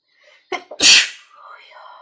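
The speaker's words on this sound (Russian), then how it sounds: "я сейчас как чихну." A woman gives a single sharp, close sneeze, preceded by a quick breathy intake and followed by faint soft voicing.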